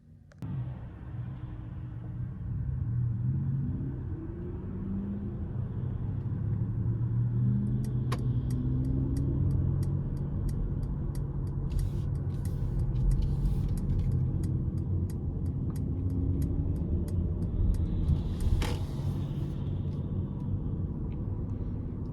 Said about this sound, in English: I'm gonna go ahead and take this EQS 450 Plus out on the road for a quick test drive.